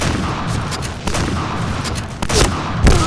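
Rapid gunfire in the online shooter Point Blank, a dense, loud fusillade of shots with sharp bursts standing out near the end, no voices over it.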